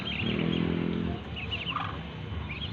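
Nearby poultry calls out, a burst of nasal honking quacks followed by scattered softer calls and rustling.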